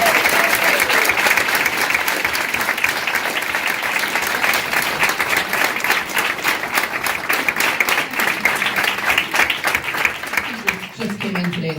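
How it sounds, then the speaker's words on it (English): Applause at a school board meeting for a student named Lauren: loud, continuous clapping from a room of attendees, with some individual claps standing out, easing slightly near the end. "please join me in giving Lauren a round of applause"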